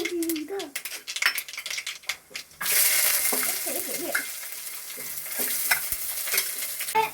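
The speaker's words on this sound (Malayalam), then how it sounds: "കടുക് നല്ലോണം ഇട്ടിട്ടുണ്ട്. അത് പൊട്ടുമ്പോഴത്തേക്കിനും" Mustard seeds splutter in hot oil for a fish curry, a bright sizzle with quick popping crackles that surges in after some talking and carries on steadily, with faint voices.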